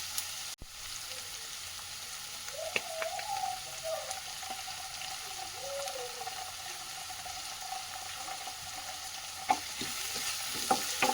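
Chopped onions with ginger garlic paste fry in a pan for mushroom masala. A soft, steady sizzle runs under occasional stirring scrapes and light clinks, with a few faint whistling tones in the background.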